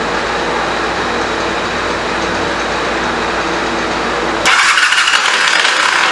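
A 1985 Honda CMX 450 Rebel motorcycle engine turns over and churns steadily, then the sound abruptly shifts to a harsher, brighter mechanical whir near the end, with no voices.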